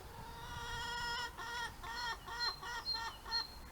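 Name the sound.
chickens clucking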